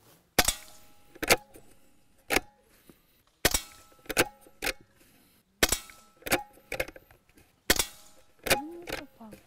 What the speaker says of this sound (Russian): И производим выстрел.